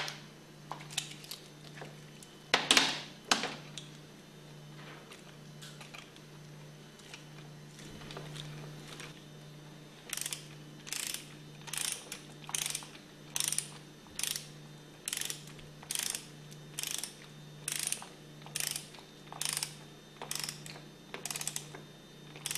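A torque wrench ratchets as it tightens a steel bolt into an aluminum piston on a Hypro diaphragm pump, giving a steady run of about fifteen evenly spaced clicking pulls, close and faint over a low hum.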